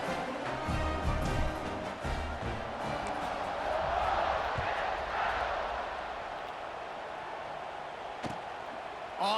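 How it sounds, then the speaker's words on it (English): Stadium crowd in the college football video game EA Sports College Football 26, a broad continuous roar of many voices that swells slightly midway, with a few sharp thuds over the top. "this crowd is buzzing after that last score"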